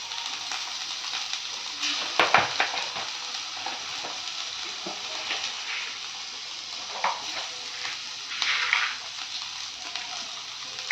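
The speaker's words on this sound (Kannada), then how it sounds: "ಹಾಗೆ ಈರುಳ್ಳಿ ಹಾಕ್ಕೊತಾ ಇದ್ದಾರೆ" Onions and green chillies frying in a pan, a steady broadband sizzle with a few sharper stirring bursts and clinks rising briefly above the hiss, close and moderately loud with no talk.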